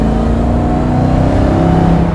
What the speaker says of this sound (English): That supercharger whiny is good.